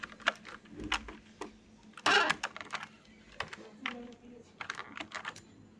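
Close computer keyboard typing comes in quick irregular bursts of clicks as a password and captcha are entered, with one dense flurry and a few pauses between.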